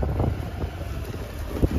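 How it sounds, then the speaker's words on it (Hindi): Strong cold wind roaring steadily across the microphone while riding a scooter outdoors on a sunny day, a continuous low buffeting rush with no speech. "हवा भी चल रही है बहुत तेज़ ठंडी ठंडी"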